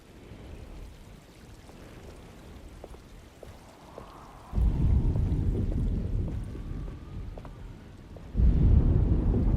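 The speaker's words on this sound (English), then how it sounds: "Just keeping an eye out for the storm. Radio says it could be a wild one." Thunderstorm in the video game Alone in the Dark: steady rain hiss with two heavy rolls of low thunder that break in suddenly and rumble on, with no speech.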